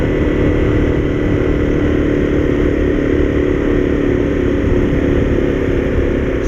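Honda CRF250L motorcycle climbing a gradual incline in 4th gear at about 50 km/h, its engine drone steady and loud throughout, mixed with constant rushing wind noise and no talk.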